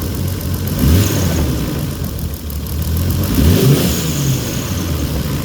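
A Toyota 2JZ-GTE engine fitted with an ATI balancer idles up close, then gets two short throttle blips that rise and fall, one near the start and another about halfway through, with a steady idle between them.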